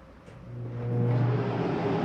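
A travel trailer's rooftop air conditioner, on a 2020 Jayco Jay Flight 284BHS, starting up: a low steady hum that swells and grows louder over about two seconds, with no talking.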